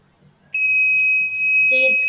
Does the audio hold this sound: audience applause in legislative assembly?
no